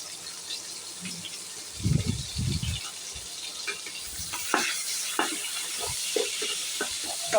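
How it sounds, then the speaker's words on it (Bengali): Onion, garlic and green chilli hit hot oil left from frying tilapia, giving a steady close sizzle with scraping stirs and a few louder clatters of the pan and spoon. "এখন আমি এই তেলটার মধ্যে কিছু পেঁয়াজ রসুন দিয়ে দিব।"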